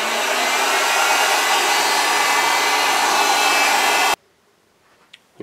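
A hot air gun blows a loud, steady roar close by while reheating a plastic part, then cuts off sharply, leaving near silence with a couple of small clicks.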